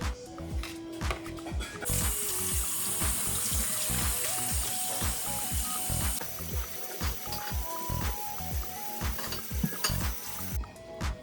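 Tap water runs steadily into a sink while food items are rinsed under it, a continuous hiss with clattering handling sounds and splashes throughout, close and fairly loud.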